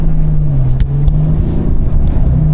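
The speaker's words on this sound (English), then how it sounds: "Just Auto's 4-inch exhaust, which sounds actually good, which I didn't expect from a V6" A V6 car engine breathes through a Just Auto 4-inch exhaust, a loud, close, deep droning note that idles steadily with slight wavering over a couple of seconds.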